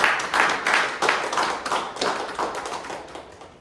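A room of Toastmasters club members and guests applauding at a meeting, dense clapping in rolling waves that gradually thins and softens toward the end.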